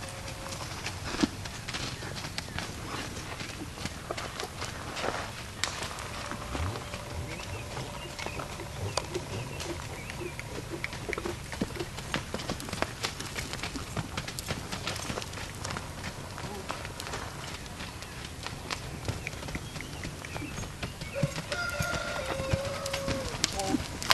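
A horse lopes around a pattern, its rhythmic hoofbeats fairly faint and distant amid outdoor background noise.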